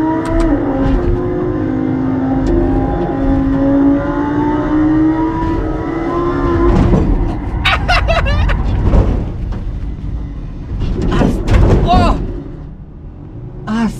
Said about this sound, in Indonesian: ini mobil melintir keras.